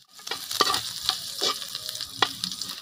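Sliced ginger fries in hot cooking oil, a crackling sizzle close up with repeated sharp pops and scraping stirs spaced irregularly, and no voices.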